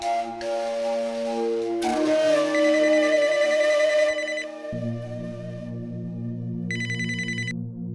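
A telephone ringtone plays a bright electronic melody loudly and alone, its tune shifting between phrases with a chiming burst near the end.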